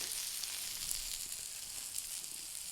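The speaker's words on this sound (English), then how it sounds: "Warm that bacon up." Bacon warms on a 28-inch Blackstone griddle, sizzling softly and steadily with a few faint pops, close by and with no talking.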